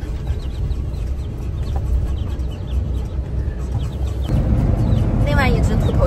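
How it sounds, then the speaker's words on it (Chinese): Soft clucks and peeps from young black-feathered chicks close by, scattered over continuous background noise, with a sharper chirping burst near the end while a person talks. "另外一只秃头小鸡，它的后边是没有白毛的，这个就是纯黑毛。"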